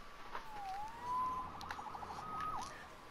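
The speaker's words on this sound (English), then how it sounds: "Saved by the siren" Faint, distant police siren wailing and yelping in short sweeps over a low background rumble, in an animated Spider-Man episode.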